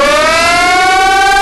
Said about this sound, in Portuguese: Que trem doido de sirene é esse